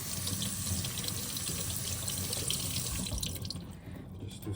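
Water running steadily from a tap during coticule stone honing, a dense splashing rush close by that fades and thins toward the end, with no voices.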